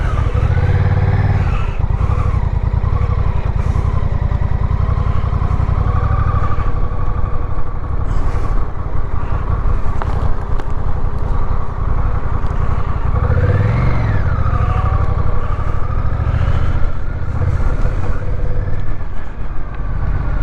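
Honda Rebel motorcycle on a test ride, its engine droning steadily and loud throughout with rising and falling pitch as the rider shifts and throttles, wind rumble mixed in.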